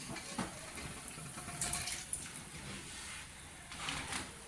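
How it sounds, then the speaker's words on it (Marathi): A quiet, steady trickle and splash of water poured into a pan of boiled dal, continuous throughout with a couple of slightly louder gushes. "तुम्हाला कितपत पाणी पाहिजे ते तुम्ही टाका"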